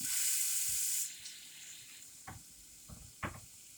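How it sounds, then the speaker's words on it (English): Half-moon apple slices and onion slices sautéing in butter, with a bright hissing sizzle at the start that drops to a quieter crackle, followed by a few soft stirring scrapes and clinks. "want to saute our half moon apple slices and onion slices"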